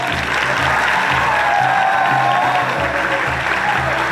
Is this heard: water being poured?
no